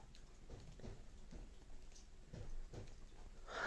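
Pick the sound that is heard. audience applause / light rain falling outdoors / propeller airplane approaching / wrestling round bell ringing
light rain falling outdoors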